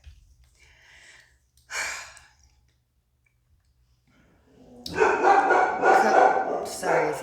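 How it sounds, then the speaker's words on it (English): Dogs barking indoors, one short bark and then a burst of several barks and yelps close by, with quiet stretches before and between them. "Sorry if you can hear the dogs."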